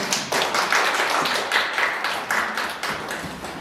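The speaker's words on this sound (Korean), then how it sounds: "다시 한번 큰 박수 부탁드리겠습니다" An audience applauds at the close of a lecture on the constitution and the roles of state institutions, a dense, steady wash of many hands clapping for the full few seconds with no talk over it.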